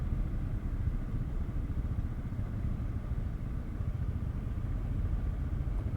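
A steady low engine rumble fills a busy main road in Palangka Raya on a smoky, hazy day, with a motorcycle idling among traffic. The drone holds level and unbroken throughout, with no horns or voices standing out.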